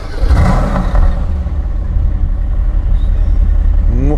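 Mercedes-AMG GT S engine revving in Sport Plus mode on a track, a loud, steady, throaty roar that holds the same level from start to finish and rises in pitch near the end, with no talking.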